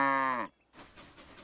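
A cartoon cow in a children's show gives a single drawn-out, tonal moo, loud and close, ending abruptly, followed by a brief silence and soft background sound.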